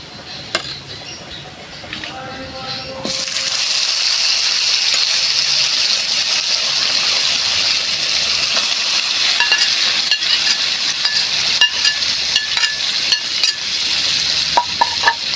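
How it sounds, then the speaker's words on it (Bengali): Lentil dal hits a hot pan, and the quiet clinks of the pan jump to a loud, steady, hissing sizzle that lasts to the end, with occasional light utensil taps. "এবার আমি ডালটা ঢেলে দেবো।"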